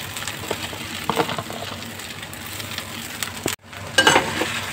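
Poha frying in a pan with salt, a steady soft sizzle beneath scraping stir strokes, a brief pause, then a louder burst of sizzling and clinking as the flattened rice is turned, with no voices.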